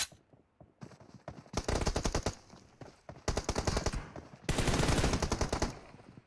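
Rapid automatic gunfire in a video game tournament match, coming in several loud sustained bursts separated by brief lulls, with an isolated shot or two at the start.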